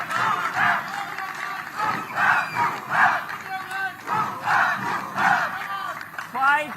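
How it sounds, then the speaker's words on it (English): Loud crowd at a National Games tennis match cheering and shouting in repeated swells, with scattered claps and voices, steady and close throughout. "A lot of cheering."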